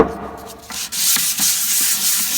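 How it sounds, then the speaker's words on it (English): Close, steady hissing of sandpaper rubbed by hand over a hard lacquer finish on a drawer, in short repeated strokes. "So I'm sanding the lacquer right now."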